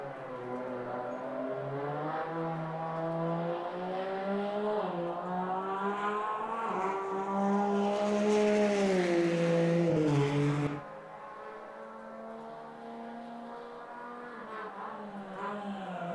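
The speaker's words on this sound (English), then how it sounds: "Oliver hard on the brakes down into Stowe, keeping the Porsche nice and square as he makes a run towards Vale and Club." Porsche GT3 race car in a racing video game at Silverstone, its engine droning loud and close with rising and falling pitch through gear changes, then abruptly dropping to a lower steady tone after a lift.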